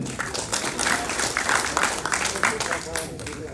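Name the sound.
audience applause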